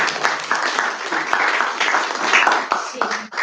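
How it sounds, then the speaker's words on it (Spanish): Audience applause at an academic meeting in Santiago, Chile, a dense steady patter of clapping from a room of listeners, fairly close and sustained for a few seconds. "Aplausos."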